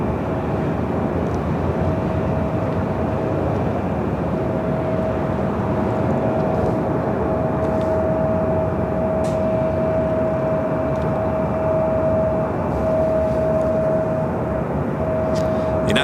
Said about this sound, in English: United Express, SkyWest Flight 5370 heading to Redmond, E175.